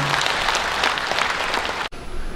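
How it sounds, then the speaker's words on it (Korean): An audience of public officials at a county governor's retirement ceremony in Geumsan applauds warmly, a dense even clapping that cuts off abruptly near the end and then resumes faintly. "큰 박수 부탁드리겠습니다"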